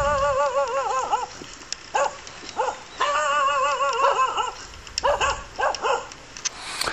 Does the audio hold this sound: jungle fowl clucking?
no